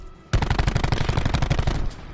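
Fully automatic bursts from a Maddox rifle in Black Ops 4, a rapid, evenly spaced string of loud sharp shots lasting about a second and a half before cutting off.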